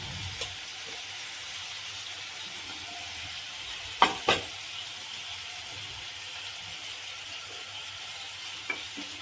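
Potatoes sizzle steadily while being fried in a pan for aloo curry, with a continuous crackling hiss and a few sharp scraping knocks of a spoon against the pan midway.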